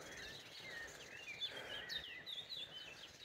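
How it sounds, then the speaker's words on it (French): Faint, distant birdsong by a stream: thin high chirps and trills drifting over a steady soft rushing of water. "les oiseaux qui chantent et tout"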